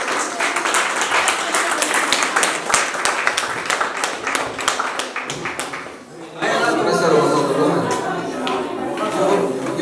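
A crowd at an evening christening celebration claps, first in a rhythmic, close patter of individual hand claps, then swelling into a denser, fuller round of applause.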